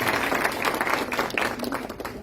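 An audience at an oratory contest held by a superior court claps together, a dense, lively patter of many hands heard close and loud for a couple of seconds.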